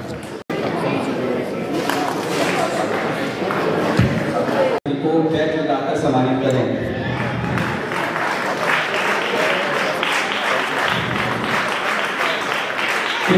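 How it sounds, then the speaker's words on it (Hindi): Sustained applause from a crowd at a karate championship ceremony fills the whole stretch, steady and dense, with a murmur of voices mixed underneath. "कृपया आप सभी की तालियां"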